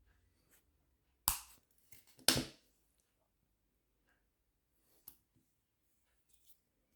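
Jewelry wire is snipped for a wire-wrap pendant, two sharp, crisp cuts about a second apart followed by a lighter click, close and clear in near silence.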